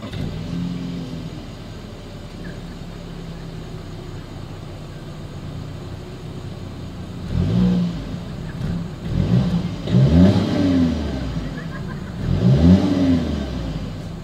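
A 2023 Volkswagen Atlas revving from outside at the exhaust, a low steady idle followed by three sharp blips that rise and fall, loud and close with no talking.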